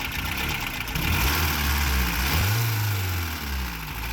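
A 1990 Toyota Hilux pickup engine runs close by, a rough, steady idle with a low droning rumble that wavers slightly in pitch throughout.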